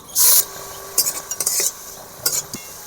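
Whole spices, cardamom, cloves and cinnamon, with onion paste and a spoon of sugar go into hot oil for a prawn malai curry; a brief bright sizzle bursts out, then spoon stirring and scraping against the pan in short clinks.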